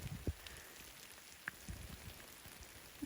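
Heavy rain drums on a tent pitched beside a river, a dense steady patter of drops on the fabric from close by, with a few louder thuds and no talking.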